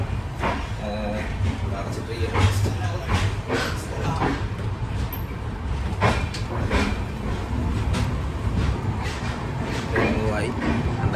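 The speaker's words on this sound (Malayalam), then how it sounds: "നമ്മളെ സൗണ്ട് ഉണ്ട് ട്രെയിനിൻ്റെ" A passenger train pulling out of Thiruvananthapuram Central station, a steady low rumble with rhythmic clacks and knocks of the carriages, heard from inside the coach while someone talks over it.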